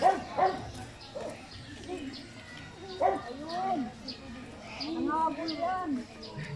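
A dog at a zoo gives a few short barks and yips, fairly faint and spaced out, while people talk nearby.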